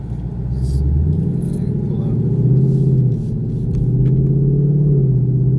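A 2018-2019 Ford Mustang GT with a 10R80 ten-speed automatic, a LUND Racing revised tune and a JLT cold air intake, drives along with a steady low engine rumble that rises and falls slightly through shifts, heard from inside the car.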